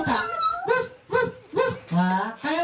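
A voice imitates a puppy whimpering during a birthday party game, with a series of five or six high, wavering whines, close and loud, each separated by brief pauses.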